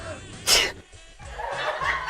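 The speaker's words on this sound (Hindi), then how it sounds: "ओहो, इतना क्यों छींक रहे हो?" A person sneezing from nerves in a comedy stage play: one sharp, loud sneeze burst followed by breathy laughter-like sounds, with no clear words spoken.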